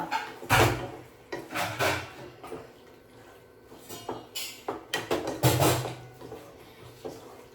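Pepper chicken being stirred in a pan, with several loud scraping and clattering bursts of a utensil against the pan separated by brief pauses, close and without talk.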